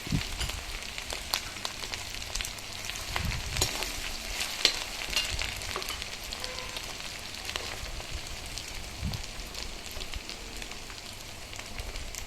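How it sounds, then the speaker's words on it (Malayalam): Passion fruit and lime pickle with chopped ginger and garlic being stirred with a ladle in a hot pan, giving a steady close sizzle with scattered scraping stirs and a few soft knocks. "ഇതെല്ലാം ഓരോന്നായിട്ട് കുറേശ്ശെ ചേർത്ത് തവി കൊണ്ട് ചെറുതായിട്ട് ഇളക്കി എടുക്കണം."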